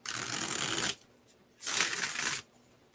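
Tarot cards shuffled in two quick riffling bursts separated by a short pause, crisp and close with no voices.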